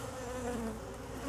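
Angry bees buzz around an opened hive during requeening, a dense steady drone of many insects, fairly close but quiet, lasting only a moment.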